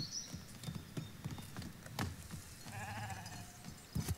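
Sheep bleat in the building game Foundation, a wavering cry near the end over quiet clip-clopping hooves and light ticking game sounds, with no voices.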